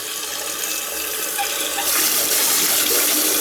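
Water rushes loudly and steadily into a toilet tank under strong pressure during a loose handle repair, a close, continuous hiss and gush that swells louder partway through, with no talking.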